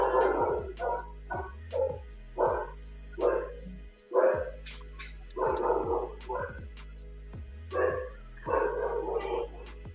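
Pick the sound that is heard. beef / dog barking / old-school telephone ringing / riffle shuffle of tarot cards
dog barking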